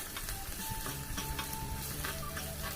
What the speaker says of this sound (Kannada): ಲೋ ಫ್ಲೇಮಲ್ಲೇ ಇಟ್ಕೊಂಡು ಫ್ರೈ ಮಾಡ್ಕೋಬೇಕಾಗುತ್ತೆ.